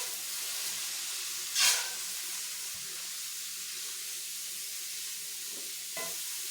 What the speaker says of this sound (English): now we mix it